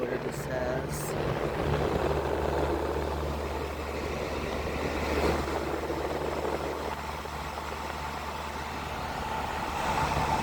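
A 2016 Lennox Merit air conditioner runs its outdoor fan motor with a steady, low droning whir and faint mechanical hum, heard continuously up close.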